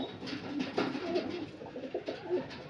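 Panjabi malwai pigeons coo in soft, repeated throaty bursts from several birds nearby, a low murmuring chorus with slight overlapping calls.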